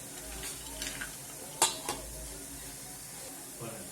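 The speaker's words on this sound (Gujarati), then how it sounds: "આ રીતે લોહીયામાં શેકી લેશું એટલે આ થોડી વાર ધીમા ગેસે આ રીતે હલાવશું એટલે કાજુ બધા ક્રિસ્પી થઈ જશે" Cashews roast in oil in an iron pan over a low gas flame while being stirred. Quiet scraping and a soft sizzle run throughout, broken by two sharp metallic clinks near the middle, with no voices.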